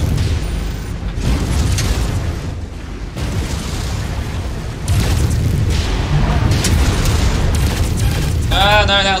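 Heavy explosions roll through a battle in MechWarrior 5 when a friendly-fire blast hits an allied mech, with sustained loud rumbling booms and mechanical clatter throughout.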